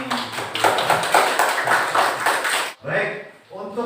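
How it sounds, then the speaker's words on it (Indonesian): Classroom applause from pupils for the Kartini group after a lesson, a burst of quick claps and children's voices lasting under three seconds before a teacher starts speaking. "tepuk tangan buat kelompok Kartini"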